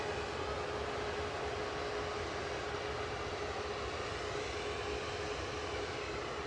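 An airliner taxis at Manchester Airport, heard as a steady, continuous engine drone at moderate distance with a faint tonal whine, with no talk.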